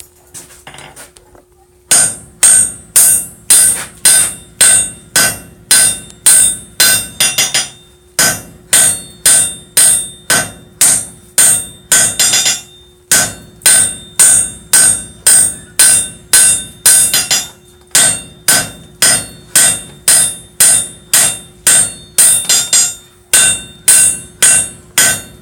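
Rhythmic hammer blows ring out on hot steel at the anvil while a cross pein hammer is forged, loud and close in steady bursts of strikes separated by brief pauses, with a faint constant hum underneath.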